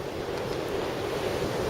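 Strong gusting wind from a February 2019 Buffalo windstorm, with gusts up to 75 miles per hour, roars and buffets the microphone as a dense, constant rush with no voices.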